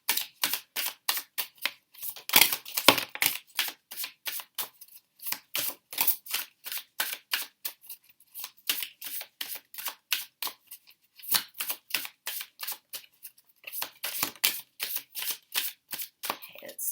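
Tarot cards are shuffled by hand in steady, rapid bursts of crisp flapping riffles, close and fairly loud, repeating with brief pauses between rounds.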